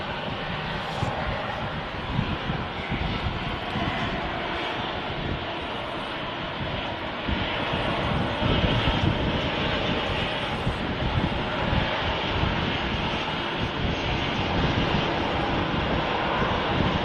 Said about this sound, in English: Ryanair taxiing in there.